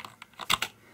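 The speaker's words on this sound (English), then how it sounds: "with me typing on the keyboard, it's actually detecting the input." Several quick, crisp keystrokes click on a USB keyboard connected to a Samsung Galaxy S4 phone, irregular taps close up and fairly soft, with no talking.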